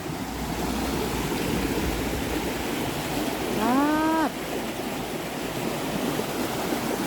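Flowing water of a stream rushes as a steady broadband wash, with a brief tonal call, like a cow's moo, rising over it in the middle.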